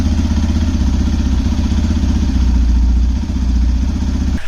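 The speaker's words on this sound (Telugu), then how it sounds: "యాడ్ చేసిన తర్వాత ఇంకొక 15 మినిట్స్ టు 20 మినిట్స్ అనేది ఐడిల్లో ఇంజిన్ ఆన్లో ఉంచాలి." A vehicle engine idles after a 3M engine oil flush has been added, a loud, steady, close rumble with an even pulsing chug that holds the whole time and cuts out at the very end.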